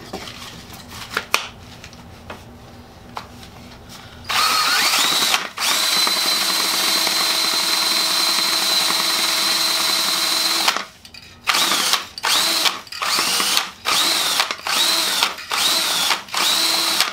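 A loud mechanical paint can shaker runs in long rattling bursts on a brand new spray can, stopping and starting several times, with short pauses between noisy runs.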